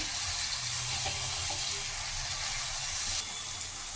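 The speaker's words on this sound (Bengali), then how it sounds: "2টো টমেটো আমি কুচিয়ে নিয়েছি। এটাকে এখন আমি ভালোভাবে ভাজবো।" Chopped tomatoes frying in a pan, a steady loud hiss and sizzle running continuously and close throughout, with no talking.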